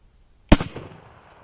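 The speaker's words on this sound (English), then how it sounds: "It doesn't feel like it has a tremendous amount of recoil behind it, but it's certainly making the rifle bounce around a lot." A single sharp, loud shot cracks from a 30-40 Krag rifle firing a 110-grain cast bullet at an outdoor range, followed by a quick decaying echo.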